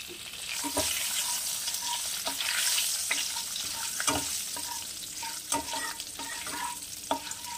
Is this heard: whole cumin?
yes